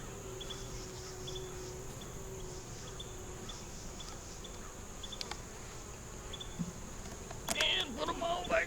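Bees hum steadily around an open beehive nuc, a faint continuous buzz with occasional closer passes, getting busier and louder near the end.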